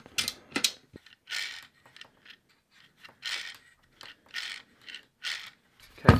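Gears spin in repeated bursts, each a rough grinding whir that rises and fades, separated by short pauses, close and fairly loud.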